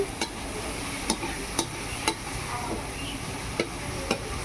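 Spices sizzle and fry in a pan for a potato, pointed gourd, soybean and paneer curry, with a steady hiss broken by sharp, regular clinks of a stirring spoon against the vessel.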